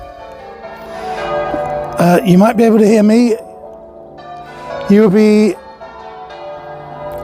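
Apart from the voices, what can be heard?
church bells ringing in Warminster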